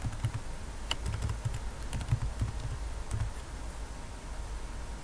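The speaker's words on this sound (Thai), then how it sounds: "ก็ให้ท่านพิมพ์ชื่อเรื่องของบทความลงไปนะครับ" Steady, fairly quiet typing on a computer keyboard while an article title is entered into a website editor, keys clicking in an irregular rhythm throughout with no voice.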